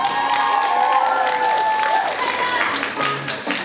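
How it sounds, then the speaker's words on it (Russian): An audience applauds after a solo retro dance number in a light show, with dense steady clapping and some cheering while a voice speaks over it. "Ваши аплодисменты!"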